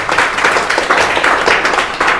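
Students in a classroom clap together in a loud, close, rhythmic burst of evenly spaced hand claps.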